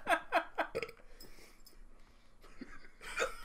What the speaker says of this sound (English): Oh, crap. I got the hiccups.